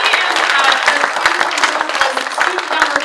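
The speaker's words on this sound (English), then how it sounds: "I wanted one more round of applause for Maddie Shade." An audience at a university event gives a round of applause, dense steady clapping close and loud throughout.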